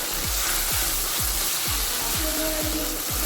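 Water poured into spice paste frying for pabda fish curry sets off a loud, continuous sizzle, with a steady rhythmic scraping of stirring about twice per second underneath.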